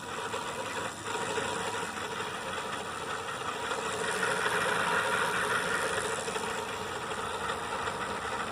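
A RadRover electric bike's motor runs at full speed with a broken throttle spring, producing a steady, close, even hum that holds without a break for several seconds, with no talking.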